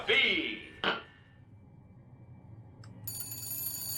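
A telephone rings in the video game BioShock Infinite with a bright, tonal electronic trill. One short burst is followed by a pause, then the ring resumes steadily over a low background hum.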